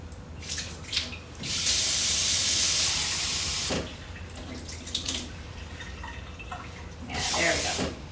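Warm water runs from a kitchen tap for pizza dough yeast, a steady hissing gush for about two seconds, then a shorter burst near the end, with a quiet voice and clatter in between.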